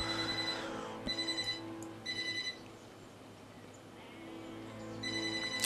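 Several rhythmic bursts of a landline phone's distinctive electronic ring from a telemarketing call, separated by short pauses, fairly faint over a low steady hum; no talking.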